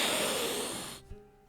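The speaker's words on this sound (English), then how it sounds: "get a good sniff here." A man sniffs himself, drawing in one long, close, breathy inhale that cuts off sharply, followed by a brief faint snort.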